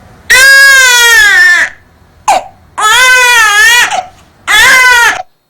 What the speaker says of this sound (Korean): 여러분 귀에도 아 하고 우는 소리가 들리시죠?